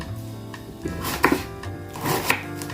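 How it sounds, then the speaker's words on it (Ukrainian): A knife slices onions into half rings on a board, giving scattered close taps and a couple of sharper cuts amid faint background hum. "Шинкуємо напівкільцями."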